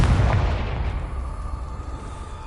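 A Confringo blasting spell explosion in the video game Hogwarts Legacy: one heavy boom at the start that rolls off into a long fading rumble, with no one talking.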